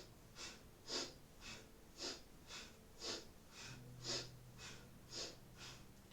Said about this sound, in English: And again, this is with the breath of fire.